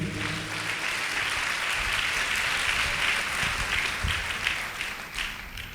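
Church congregation clapping loudly together in sustained applause, a dense steady wash of hand claps lasting several seconds, praising God during a sermon.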